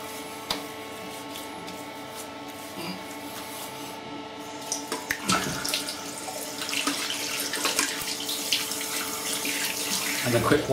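Tap water runs while shaving cream with tea tree and arnica is rinsed off the face, after a shave with a Merkur Progress razor. The water starts softly, then swells into a steady, close splashing stream at the sink.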